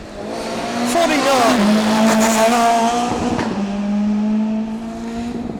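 A Vauxhall Corsa 1400 rally car passes on a stage, its engine climbing loudly through the gears with a brief tyre squeal, then fading slightly as it moves away.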